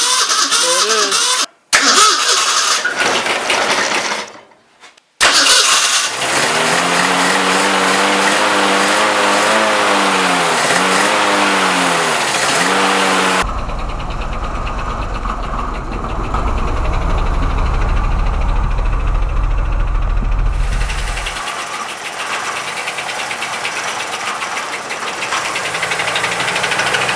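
A 1948 Willys CJ2A with an inline six engine cranks, catches and runs. The engine is loud and close, with a few rough stumbles at first, then revs that rise and fall before it settles into a sustained, throaty idle.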